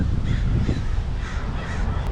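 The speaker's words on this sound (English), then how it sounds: "look at all these birds" Crows from a large flock caw repeatedly, a few harsh calls rising over loud wind and road rumble from a moving folding electric bike.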